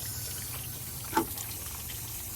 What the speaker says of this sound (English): we're going to see if we can flush out this heater core